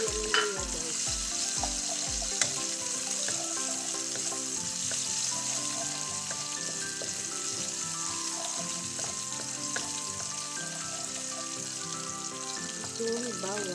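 Ginger sizzles steadily in a hot pan for a ginataang galunggong dish, with a few knocks and clatters at the start and light stirring throughout, no talking.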